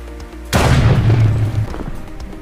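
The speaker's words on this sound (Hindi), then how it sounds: "फिर जैसे ही आप लीवर को ऑन करोगे, एक ब्लास्ट होगा और आपका हीरो ब्राइम स्पॉन हो जाएगा।" A sudden, loud in-game blast sets off the Herobrine spawn in Minecraft, a sharp boom followed by about a second of heavy rumbling that slowly fades, with a short low click just before it.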